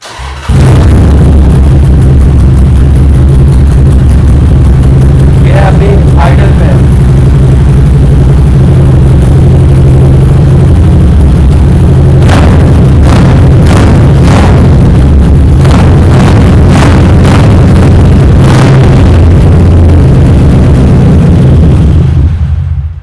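A 2011 Harley-Davidson motorcycle with a dual exhaust idles with a loud, deep, steady rumble up close, then the rider blips the throttle in a quick series of sharp revs before settling back to idle.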